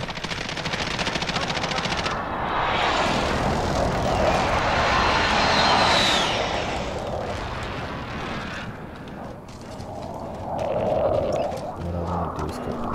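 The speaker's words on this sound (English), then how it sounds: "Be advised, friendly precision airstrike inbound." A precision airstrike and gunfire in a first-person shooter video game: loud sustained rumbling blast and roaring jet sweep mixed with rapid automatic gunfire, then continued battle noise with voices briefly underneath.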